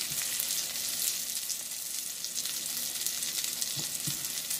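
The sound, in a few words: Beyond burgers frying in butter in a pan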